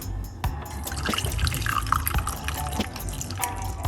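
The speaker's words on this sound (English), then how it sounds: "Pour it off." Liquid pours and splashes with dripping and trickling, a close, uneven watery sound with small spatters.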